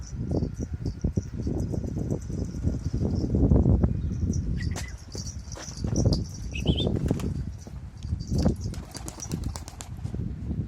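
Bursts of wing flapping from a pigeon landing, loud and close, repeating several times with short pauses, with faint chirps in the background.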